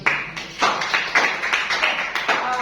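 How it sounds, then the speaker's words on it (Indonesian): Classroom applause for a student group, a loud, close burst of many hands clapping in a steady flurry that lasts throughout, with no voices over it. "beri aplaus kepada kelompok Razif"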